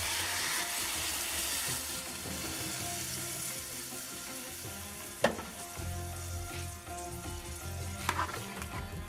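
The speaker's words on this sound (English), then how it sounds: "Now what I'm gonna do is just top this up with some water." A pot of curry paneer with aloo and string beans sizzles and fries as water is poured in, a steady crackling hiss with a couple of sharp clinks.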